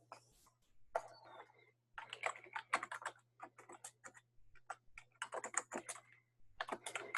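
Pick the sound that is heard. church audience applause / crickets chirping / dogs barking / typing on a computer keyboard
typing on a computer keyboard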